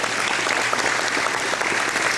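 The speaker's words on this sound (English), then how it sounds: "please give the Donovan Veterans Fund a round of applause" A crowd applauds the Donovan Veterans Fund, a brief, steady roar of many hands clapping at an even, loud level throughout, with no speech over it.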